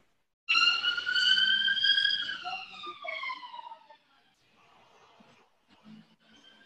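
A police siren wails with a rising and falling tone, heard from a distance, fading out into quiet background noise.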